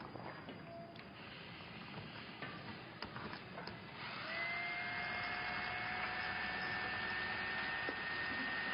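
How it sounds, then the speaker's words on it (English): A power drill bores slowly through an unbreakable plastic ornament ball held steady by hand, a steady droning whine that rises and settles into a sustained higher pitch partway through, close and fairly quiet. "we have to drill right through this unbreakable"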